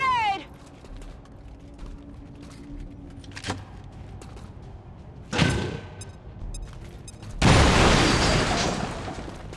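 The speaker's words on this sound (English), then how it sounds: "Throwing grenade!" Grenade blast in XCOM 2 War of the Chosen, one sharp burst near the end, loud and broad, with a smaller thump a few seconds earlier amid game ambience.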